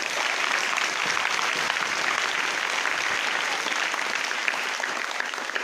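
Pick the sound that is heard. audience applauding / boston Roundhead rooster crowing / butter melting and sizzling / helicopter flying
audience applauding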